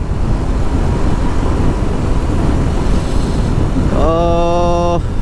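Strong, steady wind roars across the microphone during a long-distance ride on a GPX Demon motorcycle, with a rising engine or horn tone appearing near the end.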